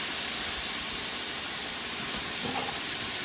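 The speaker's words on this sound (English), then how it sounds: "So just keep stirring them so they don't burn." Onions and mushrooms sauté in a pan with a constant soft hiss of steam and sizzle as they are stirred.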